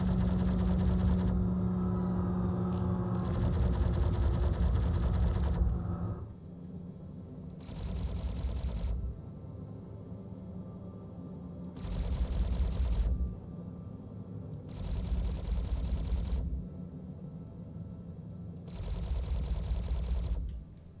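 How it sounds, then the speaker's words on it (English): Gimbaled size 2 laser repeaters on a Nomad ship in Star Citizen fire in long sustained bursts, five separate volleys of rapid buzzing shots broken by short pauses, loud and close over a low engine hum. "those are the 3 size 2 laser repeaters, gimbaled laser repeaters"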